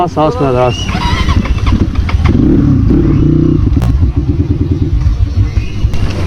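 A motorcycle on a slippery, muddy mountain road in snowy conditions, its engine loud and close, revving and labouring unevenly with clattering, while someone talks over it at the start.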